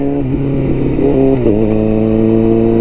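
A 2021 Honda CBR1000RR-R Fireblade SP with a flashed ECU pulls hard from 40 toward 100, the engine note climbing in pitch and holding loud and close, over steady wind rush.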